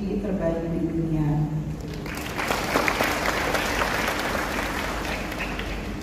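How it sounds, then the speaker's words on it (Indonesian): An audience at a university doctoral graduation ceremony in Indonesia bursts into sustained, dense applause after a speaker's voice at the start, and the clapping fills the hall until the end. "Boleh beri tepuk tangan"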